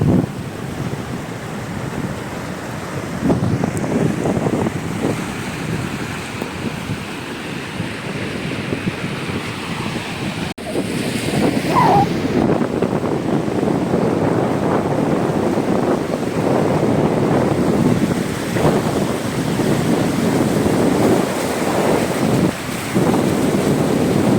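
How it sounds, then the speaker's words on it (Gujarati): Surf and wind roll steadily over floodwater spreading across the Ghed coastal lowland of Kutch, a broad continuous wash with a gusty rumble of wind on the microphone throughout and no voices. "ખારા પાણી નો દરિયો અહીંયા મીઠા પાણી નો દરિયો"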